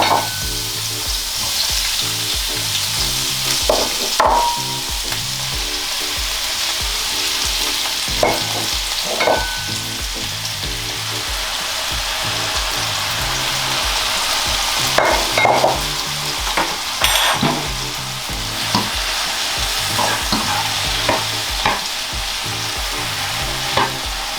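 Vegetables frying in oil in a large pan, a loud, dense, continuous sizzle with scattered clinks and scrapes of stirring throughout, close up and with no speech.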